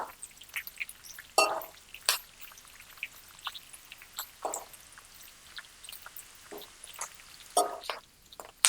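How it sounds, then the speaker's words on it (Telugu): Green and dried red chillies fry in a pan, giving scattered sharp crackles and spitting pops over a quiet background, irregular and close. "ఇది హాఫ్ కిలో కాబట్టి వీటిని కూడా మంచిగా వేయించుకోవాలి"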